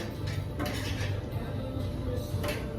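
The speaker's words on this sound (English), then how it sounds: "So start stirring this, add this in" A spoon stirs a flour mixture in a pot, giving soft scraping and faint clinks at a low, steady level.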